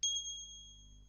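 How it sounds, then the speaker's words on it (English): A small metal bell used for cleansing crystals gives a single bright ding that rings on with a pure, steady tone and fades slowly in a quiet room. "a ring like the bell that I've just used"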